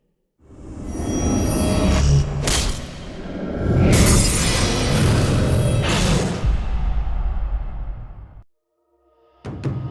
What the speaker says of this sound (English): use Dragon's Rage to kick it into the enemy nexus, immediately destroying it and winning the game